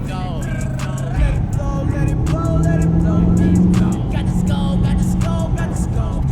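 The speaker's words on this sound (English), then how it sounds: "This car sounds so much better in person, you guys." A car with a 5.7-litre engine idles and revs at night, its deep throbbing rumble swelling in pitch midway while people talk nearby.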